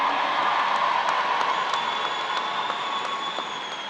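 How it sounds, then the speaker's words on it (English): A large graduation crowd of parents, families and students at a Baltimore vocational-technical high school claps and cheers steadily, a dense continuous roar with scattered sharp claps standing out, loud and sustained throughout. "clap it up for the class of 2026. Make some noise"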